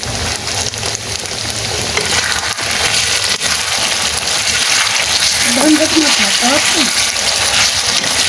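Hot oil sizzles loudly and continuously as tofu fries with oyster sauce, a dense crackling hiss close by, with faint voices underneath.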